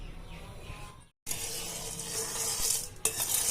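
Corn kernels stirred in oil in a pan for homemade popcorn, a steady close sizzle with scraping strokes, broken by a brief silent gap.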